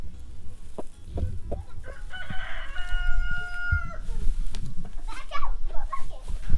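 Broody hens clucking outdoors with a drawn-out fowl call in the middle, children's voices and activity in the background.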